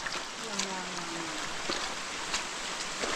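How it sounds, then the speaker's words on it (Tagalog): Heavy rain pours down on a mountain in a steady, dense hiss with scattered louder drops, and a voice speaks briefly early on. "Lakas pa ng ulan."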